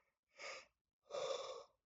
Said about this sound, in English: Stop with the yawns.